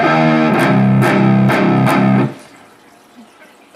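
A heavily distorted electric guitar plays a riff at slow speed, palm-muted chugs with a few accented hits, loud and close, then stopping abruptly into near silence.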